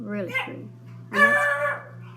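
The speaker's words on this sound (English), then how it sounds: "that's my dog, Kiki." A pet dog named Kiki gives a short whimpering bark right after a woman's soft speech, brief and close in a quiet room.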